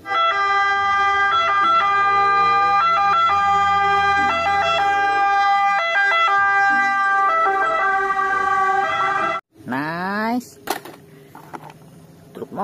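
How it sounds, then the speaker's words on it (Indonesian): A loud electronic siren from a toy ambulance cycling in a steady two-tone pattern for several seconds, then cutting off, followed by a sweeping wail and a few clicks. "Wow, ada mobil ambulan."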